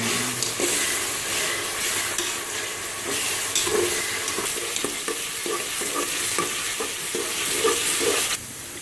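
Continuous sizzling and crackling of onion and ginger-garlic paste frying in hot oil, with occasional stirring scrapes, close up and steady.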